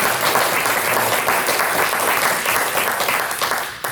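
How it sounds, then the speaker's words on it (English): Dense, steady audience applause fills a room at a U.S. Senate campaign event honoring state candidates, holding loud and even before tapering off right at the end. "Let's give them a round of applause again"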